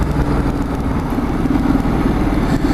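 A 2013 Ducati Multistrada ridden in touring mode: a continuous engine hum with a low throbbing pulse, mixed with road and wind noise, steady and moderately loud without talk.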